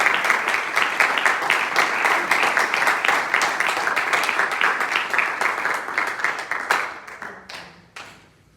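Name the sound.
congregation clapping hands in praise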